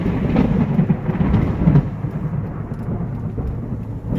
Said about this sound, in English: You hear that? It just won't stop raining.